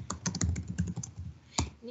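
Rapid clicking keystrokes on a computer keyboard while typing a paragraph, a quick irregular run of close, crisp taps followed by a brief pause and one last sharper key press.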